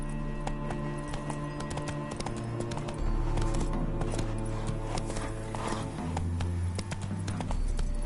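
Roach the horse gallops in The Witcher 3 video game, a steady run of clip-clop hoofbeats under layered game music and ambience, with no speech.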